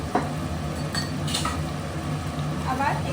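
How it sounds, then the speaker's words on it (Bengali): A spoon stirs prawn malai curry with ghee in a pan, with soft scraping and light clinks of utensil against metal over a faint low sizzle, close and steady. "আবার একটু নেড়ে চেড়ে নেব।"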